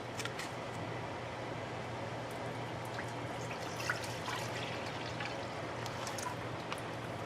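Homemade veggie broth poured into a cooking pot, a steady close liquid rush lasting several seconds under a low kitchen hum, with faint drips and splashes.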